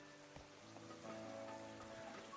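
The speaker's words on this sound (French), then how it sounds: "Il pleut, mais il n'y a pas de nuages." Rain in the video game Pokemon Violet falls as a faint, steady patter that stays even and continuous throughout, with no talking over it.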